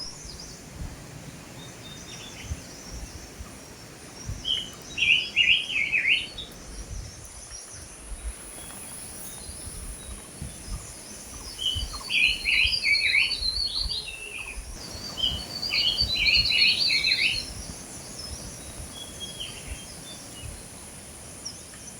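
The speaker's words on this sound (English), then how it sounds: "grey-bellied tessia, golden babbler, silver-eared messia, lesser shortwing making calls, creating a beautiful ambience" Grey-bellied tesia, golden babbler, silver-eared mesia and lesser shortwing call in a forest in Mizoram, India, with bursts of high, rapid chirping phrases at a moderate distance over a steady insect hum and soft ambient rustle.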